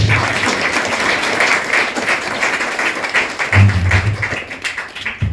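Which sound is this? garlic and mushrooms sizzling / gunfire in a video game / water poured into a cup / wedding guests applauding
wedding guests applauding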